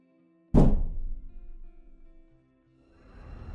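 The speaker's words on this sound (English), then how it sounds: "I heard a very distinct thumping sound coming from upstairs." A single heavy thump rings out from upstairs, sharp at the onset and then decaying slowly, followed by near silence and a faint low rumble.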